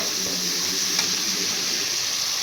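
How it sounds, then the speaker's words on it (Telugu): Shallots sizzling as they fry in a pan, a steady, even hiss with faint crackle throughout, close and moderately loud with no talking. "ఒక 4 చిన్నుల్లిపాయలు వేసాను, రెబ్బలు. అవి కూడా బాగా వేయించుకోవాలా."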